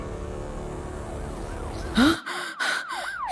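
A police siren wails in loud rising and falling sweeps for the final second or so, cutting in after a low background hum and a brief spoken word.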